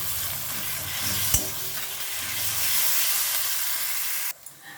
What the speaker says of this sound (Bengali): আদা রসুনটা দিয়ে ভালোভাবে আমি কষিয়ে নিয়েছি কিছুক্ষণ ধরে।